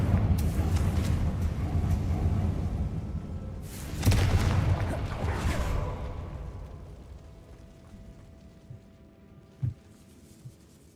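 Confringo blasting-curse explosions from Hogwarts Legacy: a loud burst of rumbling blast noise near the start, then a second heavy boom around four seconds that trails off into quieter debris crackles and a few small late pops.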